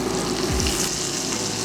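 Old Bay seasoning sizzles in melted butter in a pan, giving a steady, dense frying hiss throughout with a faint stir or scrape partway through.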